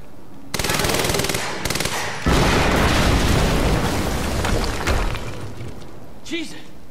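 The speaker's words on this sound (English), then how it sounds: "HQ, we just heard an explosion near the harvesting perimeter." Video game Quantum Break combat: bursts of rapid automatic gunfire followed by a loud booming explosion and rumbling aftermath, with a voice speaking briefly near the end.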